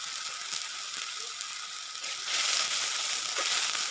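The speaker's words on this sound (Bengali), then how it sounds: "পেঁয়াজটা ভালো করে ভেজে নিতে হবে দিয়ে দিলাম সামান্য জল যাতে পেঁয়াজটা পুড়ে না যায়" Sliced onions frying in a pan with a splash of water added, giving a steady broadband sizzle that swells louder partway through, with faint scraping of stirring.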